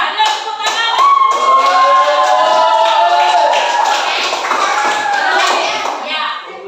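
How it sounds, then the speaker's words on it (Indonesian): A class of children claps hands together in a loud, rhythmic burst that settles into continuous applause, with children's voices and shouts mixed in over the clapping. "Ya, ada tepuk tangan."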